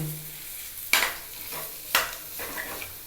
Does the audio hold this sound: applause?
no